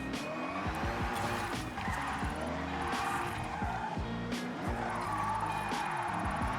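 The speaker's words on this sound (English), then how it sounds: "Okay, so this thing is definitely spinning out." A car spins out in Forza Horizon 6, its tires screeching and squealing in long, wavering skids over a steady racing engine drone, loud and continuous throughout.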